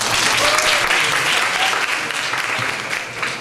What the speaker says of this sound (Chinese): 我们掌声欢迎他。